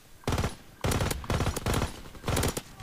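Four distinct bursts of rapid gunfire from a World War II gun in Call of Duty WW2, loud and close, separated by short pauses.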